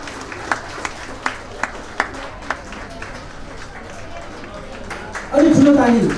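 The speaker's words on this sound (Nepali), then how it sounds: "त्यो समयमा पनि हामी ताली बजाइ नै रहनेछौँ।" Guests at a wedding reception applaud the cake cutting with scattered, spaced claps in a loose rhythm, fairly faint under a steady room hum, before a louder voice cuts in near the end.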